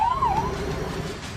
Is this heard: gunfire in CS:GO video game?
no